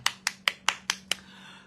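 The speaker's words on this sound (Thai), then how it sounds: "ขอเสียงปรบมือก่อน" Six sharp, close hand claps come in an even rhythm about a fifth of a second apart, then stop and leave a faint low hum.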